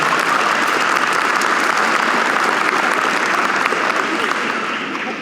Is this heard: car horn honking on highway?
no